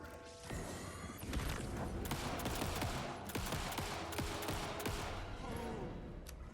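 Rapid gunfire rattles through Alan Wake 2 in dense bursts of sharp, repeated shots with clattering impacts and crashes across most of the clip.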